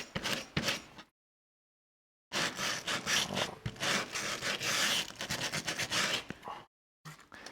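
A Mordheim gaming board mat is roughened by quick rubbing strokes, a dry, close scratchy scraping in bursts, broken by one long silent gap and a short pause.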